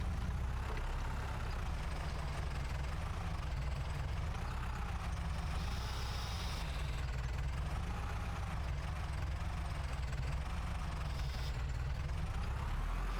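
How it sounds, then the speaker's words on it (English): A small tractor's engine runs steadily in the Farming Simulator 25 game while baling bean straw on a farm, a loud continuous low drone that holds unbroken throughout, with no voices. "This is quite a nice little tractor for doing this kind of thing."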